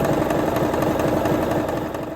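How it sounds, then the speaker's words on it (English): A Brother LS-2125 sewing machine runs flat out to spread fresh oil, giving a loud, continuous mechanical whir with a rapid rhythmic chatter that tapers slightly at the end. "just run the machine, and you want to run it at a fast pace"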